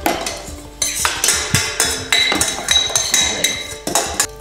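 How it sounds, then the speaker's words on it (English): Lemon juice being whisked into a low-carb cheesecake mixture: a rapid run of metallic clinks and scrapes against the bowl, close and fairly loud, in uneven bursts without talk. "we're just going to add it to the cheesecake mixture and whisk it"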